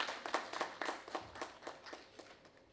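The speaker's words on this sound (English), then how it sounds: "A round of applause, please." Scattered, fairly faint clapping from an audience at a logistics expo tech talk, with individual claps distinct in an uneven rhythm across a few seconds.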